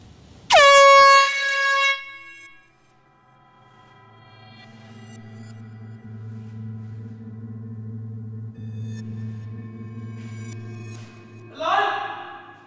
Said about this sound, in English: Silence, please, while I sound the horn.